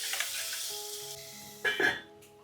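Onions fry in a pan with salt while making chikkudukaya (broad beans). A soft, steady sizzle is briefly interrupted by a louder stirring burst, then fades.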